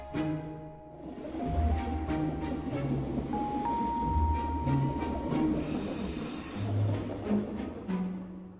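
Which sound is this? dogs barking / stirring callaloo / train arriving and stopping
train arriving and stopping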